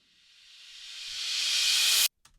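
A synth swell in a music mix, a breathy, hissing noise that rises steadily in loudness and brightness for two seconds, then cuts off abruptly into near silence.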